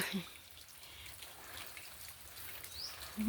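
Soft, steady patter of rain with scattered drips, faint and continuous, with brief distant bird chirps at the start and end.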